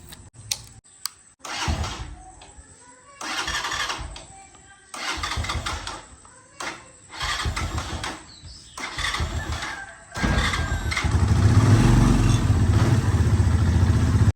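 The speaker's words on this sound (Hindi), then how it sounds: "स्टार्ट हो गई है हमारी बाइक" A motorcycle engine cranks in several short bursts, then catches and settles into a steady, close, loud idle.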